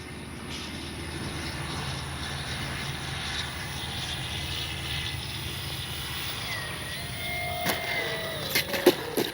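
An RC model Focke-Wulf Ta-152H warbird comes in to land with flaps down, its electric motor a faint, steady whine under wind rumble, ending with a few sharp knocks as it touches down.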